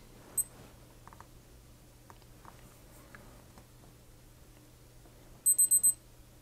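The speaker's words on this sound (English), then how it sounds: "Makes a peep and then it starts timer two." Casio G-Shock G-7700 digital watch timer beeping: a quick run of four sharp, close electronic beeps near the end after quiet, with a faint earlier peep.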